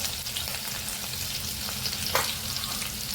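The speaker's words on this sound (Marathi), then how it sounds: "तेल तापले यामध्ये मिरची आणि आलं खिसून घेतले ते घालून घेणार आहे खिसून घेतलेले आलं आणि मिरची" Grated ginger and green chilli frying in hot oil for egg fried rice, a steady close sizzle and crackle with a brief stir partway through.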